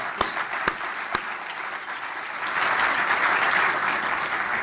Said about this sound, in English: that is worthy of applause